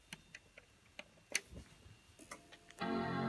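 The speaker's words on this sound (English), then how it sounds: "I think that's the hard drive making that noise" A failing hard drive inside an iMac G3 gives faint, irregular ticking clicks scattered over a few seconds, followed by a steady whirring hum that takes over at the end.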